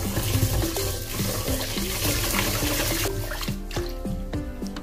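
Rice being rinsed by hand in water for the first wash before cooking in a rice cooker, with steady running and sloshing water and small clinks throughout, close and moderately loud, no voices.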